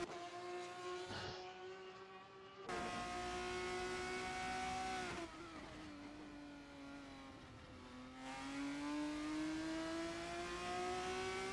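A sim racing game car engine at Okayama circuit revs and drops in pitch, shifting between high whines and lower tones, loud and continuous with no talking.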